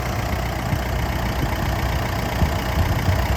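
A 2018 Mitsubishi Triton 2.5 GLX pickup engine idles steadily up close, a constant mid-to-low diesel hum with faint ticking and no talking over it.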